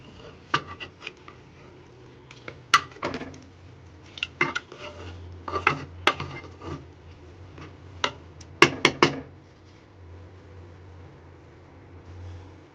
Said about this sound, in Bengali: লবণ, আর দিয়ে দেব হলুদ, দিয়ে জিনিসগুলোকে ঘেটে নেব।